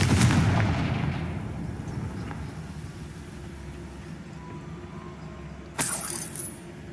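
The Confringo blasting spell goes off in the video game Hogwarts Legacy with a loud booming burst at the start that fades into a low rumble, then a second sharp crack with a bright hiss near the end.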